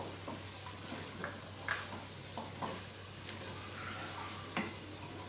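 Masala with roasted crushed coriander and fenugreek frying in oil in a pan, giving a steady soft sizzle with gentle scraping stir strokes at irregular intervals, quiet and close, with no speech.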